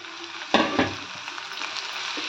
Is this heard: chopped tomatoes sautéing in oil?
yes